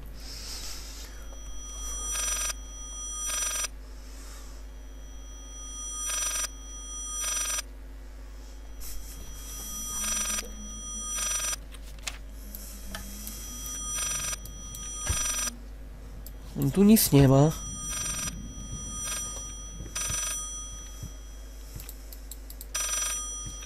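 A telephone rings repeatedly in the horror video game Layers of Fear, in regular bursts across the clip, with a brief louder swell of other game sound partway through and a player speaking briefly.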